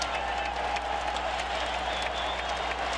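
Arena crowd in Philadelphia on its feet during a 76ers–Bucks 2001 NBA Eastern Conference Finals Game 7, a steady, dense roar of cheering and clapping that stays loud and unbroken throughout.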